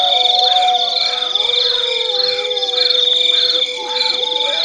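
Crickets and frogs call together in a loud, dense night chorus: steady high cricket trills run throughout, while repeated croaking frog calls pulse in a regular rhythm beneath them.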